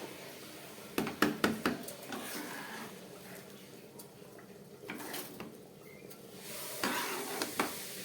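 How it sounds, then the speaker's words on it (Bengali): Gobindobhog rice frying in ghee with vegetables in a small pan, stirred with a spoon that clatters and scrapes in short bursts over a soft, steady sizzle. "চালটা একটু ঘিয়ের মধ্যে খুব ভালো করে সবজির সঙ্গে ভেজে নিলাম।"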